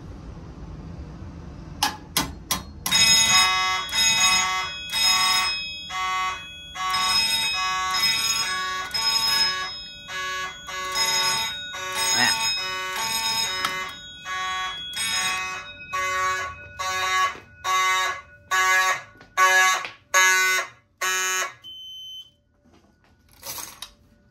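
A Simplex 4207 fire alarm system sounds after a pull station is activated, with loud, harmonically rich alarm tones in rapid rhythmic bursts that shorten and space out toward the end, with no talk.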